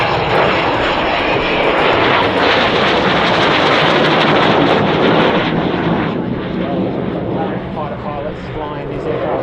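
An A-37 Dragonfly jet roars past at an Australian International Airshow, a loud, sustained engine rumble and whine that slowly fades as the aircraft moves away, with a voice faintly audible beneath the noise.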